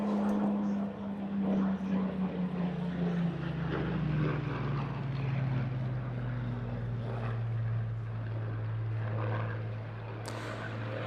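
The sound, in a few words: Spitfire Mark 1 propeller aircraft high-speed pass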